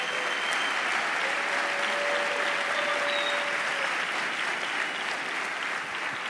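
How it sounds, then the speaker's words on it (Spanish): A church congregation applauds loudly and continuously, a dense steady wash of clapping from many hands throughout. "dale ese aplauso fuerte al Señor"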